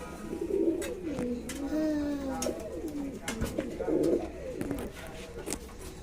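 Yellow American pigeons coo in a loft, low rolling calls rising and falling at close range, with soft background rustle and a voice speaking faintly underneath.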